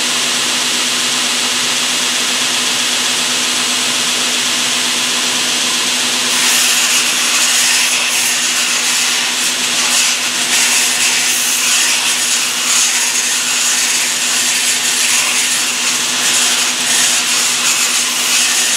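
A belt sander grinds down metal pole inserts made from salvaged aluminum tent poles, a steady loud abrasive roar with a constant hum that grows harsher and brighter partway through as the workpiece bites the belt.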